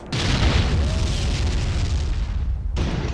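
Artillery bombardment pounds away in a WWII tank game set at Faid Pass, Tunisia, 1943, a loud, continuous rumble of blasts and booming explosions for about three seconds before cutting off briefly and resuming.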